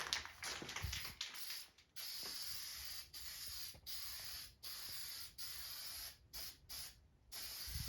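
A spray gun sprays paint into a corner on a farm truck, with close, loud hissing bursts cut by short pauses, some long and some quick.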